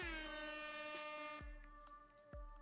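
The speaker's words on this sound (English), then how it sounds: "the air horn, which is this one here" An air horn sound effect triggered from a Rodecaster Pro blares, a sustained brassy honk with rich overtones, then quieter trailing bursts with sharp clicks at intervals.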